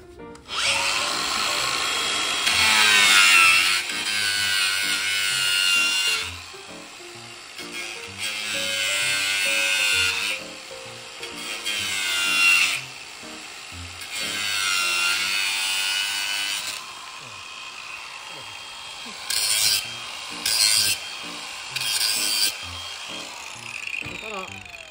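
A cordless grinder cuts through thick stock in several long bursts of harsh, loud whining, each a few seconds long, with short gaps between them and a few brief final passes.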